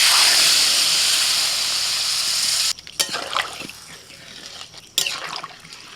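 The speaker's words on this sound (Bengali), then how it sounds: "সামান্য একটু জল দিচ্ছি।" Water poured into a hot pan of taro and potato curry with fried spices, a loud steady steam hiss for a few seconds that cuts off, followed by softer scattered bubbling and clatter.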